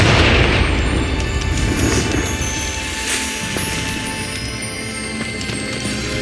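A Confringo fire spell explodes in Hogwarts Legacy, a loud booming blast right at the start that rolls into a long rumbling decay with faint crackles.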